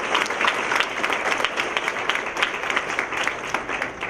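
An audience gives a round of applause for kitchen workers at a celebration-of-life dinner in a conference center: continuous, lively clapping from a sizeable crowd, fairly close and steady throughout, with no speech.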